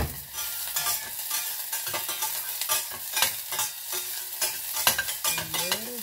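Garlic sautés in a small saucepan with a bright, continuous sizzle, broken by frequent stirring scrapes and clinks of a utensil against the pan. A faint tonal whine rises near the end.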